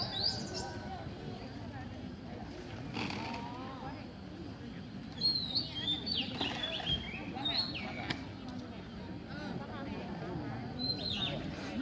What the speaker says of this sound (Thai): ได้ยินเสียงนกร้องน่าจะเป็นนกกลางเขนครับ